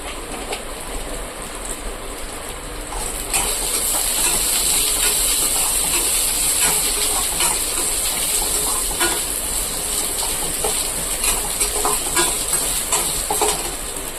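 Fennel seeds, pepper and cumin sizzle in hot oil in a pan for a fish curry, a steady bright crackling hiss that swells slightly partway through and continues unbroken without talk.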